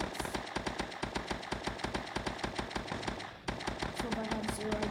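Rapid automatic gunfire from a robot video game rattles in a steady fast stream of evenly spaced shots, breaking briefly before resuming, fairly faint overall.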